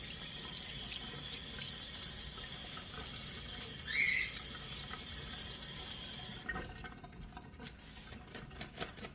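Running tap water splashing over fresh leeks in a kitchen sink as they are rinsed clean, a steady close hiss and patter that shifts and thins near the end.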